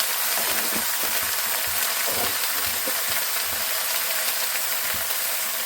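Turmeric and salt frying with spices in a pan for a village-style greens dish, a steady close sizzle and hiss with faint scraping stirs running throughout.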